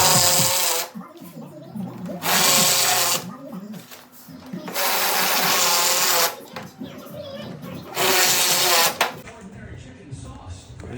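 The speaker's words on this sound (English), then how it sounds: "when you screw it in, make sure you push this down and hold it tight so it's all the way seated." Power drill driving screws into a Lifetime 6 ft folding picnic table, three loud, whining bursts of a few seconds each with brief pauses between, close by, with handling noise in the gaps.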